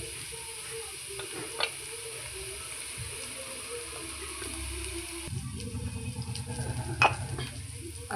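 Asafoetida sizzles and crackles in hot oil in a pan, a quiet steady fry with a few stirring taps and a louder burst of sizzling near the end.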